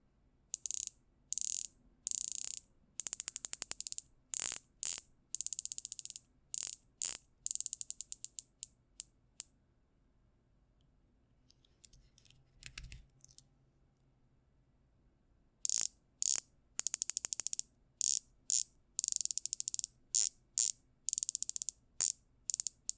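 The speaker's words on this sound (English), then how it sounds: "Here's a little quick comparison side by side of how the bezel action works on the Ginault and the" Two dive watch bezels, a Ginault Ocean Rover and a Rolex Submariner, are rotated in turn, giving crisp rapid ratcheting clicks in bursts, a quiet pause in the middle, then another run of sharp clicks, close up with no talking.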